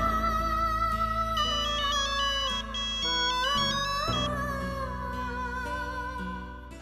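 A mobile phone ringtone plays a loud, melodic electronic tune, close and continuous, with no one speaking over it.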